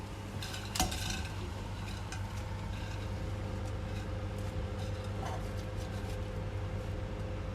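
Tagliatelle being stirred in a pot of salted boiling water, with a soft continuous bubbling hiss and a couple of brief utensil scrapes and clinks against the pot close by.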